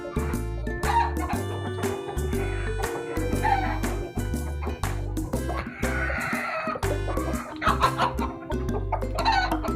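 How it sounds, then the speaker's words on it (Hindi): A hen clucks repeatedly as she is let out of a backyard coop, with other fowl nearby, the calls sounding over steady rhythmic background music throughout. "अपनी इस वाली मुर्गी को भी खोलते हैं"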